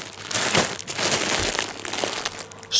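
A plastic packet holding a set of women's long socks crinkles steadily as it is handled up close, a dense continuous rustle with a few sharper crackles.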